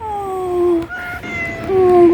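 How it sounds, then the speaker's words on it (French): A cat meows close and loud in a few drawn-out, wavering calls with short breaks between them, heard alone with no talking, out on a camping-car trip. "Oh, un chacha. Mais t'es mignon tout plein. Oh miaou."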